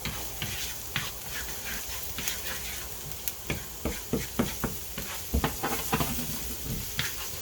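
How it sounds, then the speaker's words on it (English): Onions and garlic sizzle softly in a pan while a utensil stirs and scrapes them, with irregular knocks and taps over a steady low frying hiss. "they're getting really nice, they're going to get some color on them, and then we're just going to put in some garlic. Stir this around a little bit."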